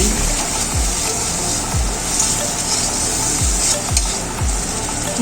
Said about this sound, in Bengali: এবার দিয়ে দিচ্ছি চেরা কাঁচা লঙ্কা, তারপর নেড়ে চেড়ে নিচ্ছি।